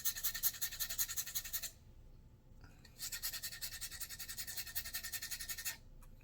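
Sandpaper rubs briskly back and forth across table tennis paddle rubber in quick, rhythmic scratching strokes. Two bursts of sanding are separated by a short pause.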